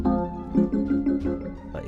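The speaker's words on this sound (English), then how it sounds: "I used the Rhodes Mark I." A Rhodes Mark I electric piano patch from the stock FL Studio Flex plugin, unaltered, plays a short run of mellow, bell-tinged chords and notes in a quick rhythm, close and clean with no voices.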